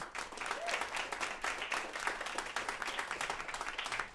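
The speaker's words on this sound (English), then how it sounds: "Give a round of applause." An audience applauds a blues artist being welcomed on stage, a fairly faint but steady round of many hands clapping that sustains evenly without voices.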